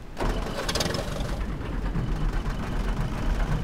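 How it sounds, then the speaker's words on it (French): A tractor engine in the video game DayZ runs loudly and steadily for the whole stretch, a rough, throbbing rumble with a brief burst of higher noise near the start and no talk over it. "Le tracteur va me gêner."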